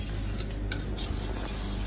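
Milk mixture with natural butter being stirred steadily in a pot as it thickens, a continuous close scraping and rubbing of spoon against the pot bottom with soft repeated strokes, no talking.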